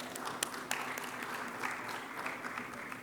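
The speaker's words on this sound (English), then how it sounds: "Can we please have a round of applause for Mr. Nixon Johnny?" An audience at a live stage event applauds, a steady wash of clapping that carries on at moderate loudness for the whole stretch.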